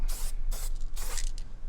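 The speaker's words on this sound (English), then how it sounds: "you can get different nozzles to get different effects with spray paint and cover large areas" Spray paint can fitted with a wide fat cap nozzle, hissing in three or four steady bursts of roughly a third of a second each, close and loud, with brief gaps between them.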